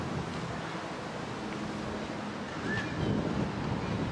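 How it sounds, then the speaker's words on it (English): Wind buffets a microphone outdoors in New York City, making a continuous broadband rumble and rush that grows slightly stronger toward the end. "A lot of wind."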